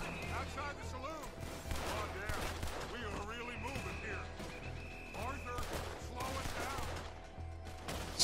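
Scattered gunshots in the Red Dead Redemption 2 video game during a town shootout, several sharp cracks spread through the scene amid game sounds, with a voice talking over them.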